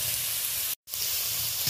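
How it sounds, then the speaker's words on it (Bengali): Small prawns sizzle steadily in hot oil with spice tempering, a loud, close, continuous frying hiss broken by one very brief cut-out, with no talking. "ফোড়নের সাথে চিংড়ি মাছটা একটু ভাজাভাজি করে দিচ্ছি।"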